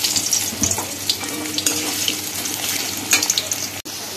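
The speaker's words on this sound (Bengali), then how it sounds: "আলুটাকে ভালো করে ভেজে নেব।" Thinly sliced potatoes fry in hot oil seasoned with black cumin, a steady close hiss and crackle with scattered pops and a faint clink near the end, no voices.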